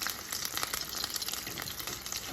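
Samosas deep frying in hot oil, making a faint but constant crackling sizzle with dense fine bubbling throughout, no speech.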